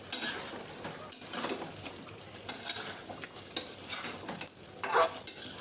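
Chicken meat, Sonali hen, being stirred while it fries in a pan, with a steady sizzle and intermittent scraping strokes of the spoon across roughly six seconds, close and moderately loud, no voices.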